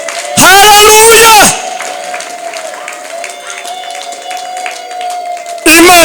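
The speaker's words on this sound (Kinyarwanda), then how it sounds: "Abamubonye akora tumukomera amashyi." A church congregation bursts into loud applause for about a second, then a sung or sustained voice carries on alone before clapping returns at the end.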